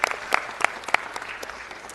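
Scattered clapping from an audience at a city council meeting for the co-facilitators, a handful of distinct, sharp claps rather than a full ovation.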